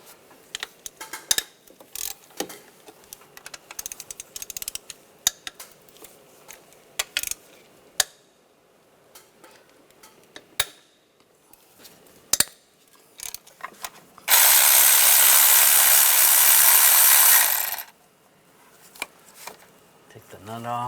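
A ratchet with a 12mm socket loosens intake nuts on a 1996-2002 Toyota 4Runner, giving scattered close clicks and metallic clanks, then a loud steady burst of mechanical noise lasting about three seconds before quieter clicks resume.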